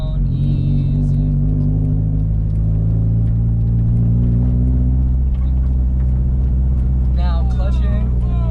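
A manual-transmission car engine drones and rumbles loudly inside the cabin as the driver shifts into second gear, the pitch settling and rising steadily, with people talking over it.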